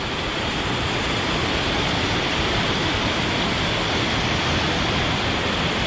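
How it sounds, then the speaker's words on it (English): Steady, close rush of falling water, a small cascade splashing continuously with no voices, an even broadband hiss throughout. "The water's coming off there, like a wee waterfall into that, and then goes on down."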